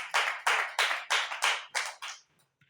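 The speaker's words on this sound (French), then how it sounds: "Applaudis pour Jésus-Christ." Applause in a church service: six short, loud bursts of clapping in a steady rhythm, each surge fading quickly before the next, then tapering off into near silence.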